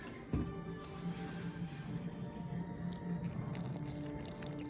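Milk (2%) poured into eggs in a kitchen, a soft continuous liquid trickle and gurgle with a sharp knock near the start, faint and close.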